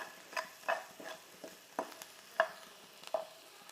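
Vegetables fry in a pan as filling for bread cones, with a quiet sizzle under repeated light taps and scrapes of a spoon stirring at irregular intervals, close and faint.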